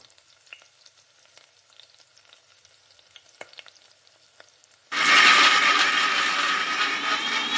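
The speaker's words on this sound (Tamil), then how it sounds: "இப்போ அதே பாத்திரத்தில் தாளிப்பு கொடுத்துக்கலாம்." Tempering for mint chutney hits a hot pan after a few seconds of faint rustling and clinks, bursting into a loud, continuous sizzle that carries on to the end.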